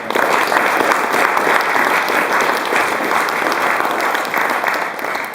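Sustained, loud applause from a large crowd at a West Papua rally, dense clapping rolling steadily without pause and no voices rising above it.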